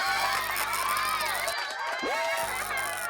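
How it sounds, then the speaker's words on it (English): A crowd cheers and shouts in a dense, continuous swell with whoops and raised voices, fairly loud throughout with a brief dip midway. "Oh, Premier League applause."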